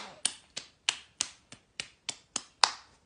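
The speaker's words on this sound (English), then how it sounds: "Clap, clap, clap, clap." Hands clap in a steady series of eight sharp, crisp claps at an even rhythm, fairly close and fading quickly after each hit, with no talking.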